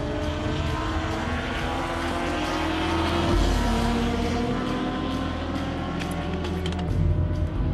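Porsche and BMW race cars at speed during the Omnitel 1000 km endurance race in Lithuania on a partly wet circuit: a continuous engine roar with a noticeable pitch shift midway, loud and sustained with no talk.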